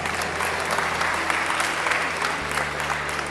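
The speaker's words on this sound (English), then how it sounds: "Let's give her a round of applause." Audience applause at a senior center party celebrating Social Security, with steady, dense clapping from a crowd filling the whole stretch without pause.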